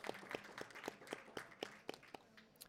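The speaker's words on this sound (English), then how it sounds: "Let's have a round of applause." A small audience claps evenly and faintly at an APPA 2017 photography print judging, the separate claps steady and spaced for a few seconds before thinning out.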